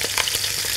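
Lamb neck sears in olive oil in a pot, a dense, loud, continuous close sizzle with no speech.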